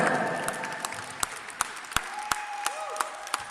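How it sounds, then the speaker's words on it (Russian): At a Latin dance competition, an audience applauds with loud, irregular claps standing out above a steady wash of hands, close and continuous throughout. "И ваши громкие аплодисменты"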